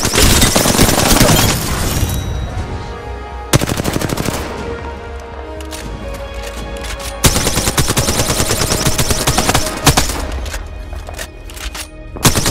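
Heavy incoming gunfire during a battle royale match in Apex Legends: loud sustained automatic bursts, broken by sharp impacts and short pauses, dense and close throughout.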